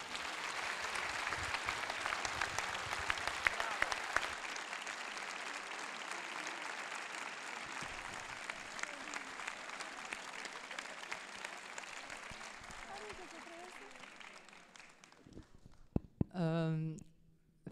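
Sustained audience applause from a crowd at a festival event, dense and steady for about fifteen seconds before tapering off, followed by a brief burst of voices or whistling near the end.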